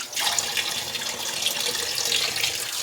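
Water runs steadily from a tap while cleaned, scaled puti fish are rinsed under it for cooking, a close, continuous splashing rush with no talking.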